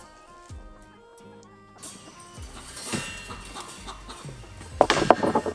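Several chickens cluck and murmur nearby, growing busier and louder toward the end, with some rustling in the background.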